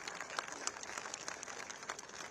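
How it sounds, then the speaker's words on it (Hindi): Faint, steady clapping from a seated audience at a Gandhi Smriti event near Rajghat, greeting an election winner, with a dense patter of many hands continuing throughout at a distance. "अभी बधाई दे दीजिए, ताली बजाकर चुनाव जीत कर आए हैं जाकर"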